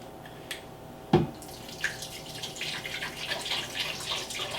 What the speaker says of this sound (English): So I like to add a little bit of water first.